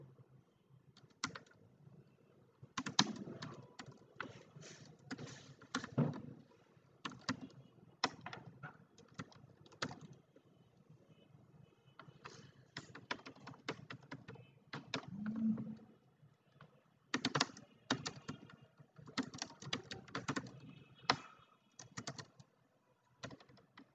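Steady computer keyboard typing while comments are entered on a PHP web page, with irregular bursts of keystrokes and brief pauses, close and fairly quiet, with no talk.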